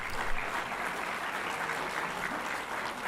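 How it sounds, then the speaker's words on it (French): A crowd at a rugby club's team and kit presentation evening claps steadily and fairly loudly for the whole stretch, a continuous wash of applause in a hall. "on vous applaudit très très fort, merci à tous."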